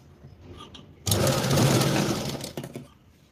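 A sewing machine stitches a princess blouse seam in one loud, continuous run of about a second and a half, close by, then slows and stops.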